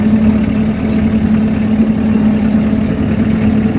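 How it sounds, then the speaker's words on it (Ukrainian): A tractor engine runs under steady load, hauling a heavy trailer loaded with firewood across a soft, damp field; a constant low drone holds at an even level throughout, with no talk. "це трактор, йому потрібно працювати."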